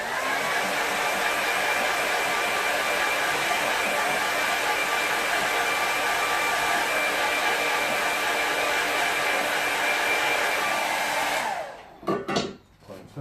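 A hair dryer blows across a painting board to dry wet paint, giving a loud, steady rushing whir that runs unbroken for about eleven seconds before switching off, followed by a few brief soft knocks.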